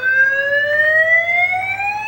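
A fire alarm blares loud and close as a steady electronic tone that slowly rises in pitch, sounding alone without any voices.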